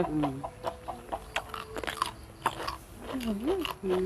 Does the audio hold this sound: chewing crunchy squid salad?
yes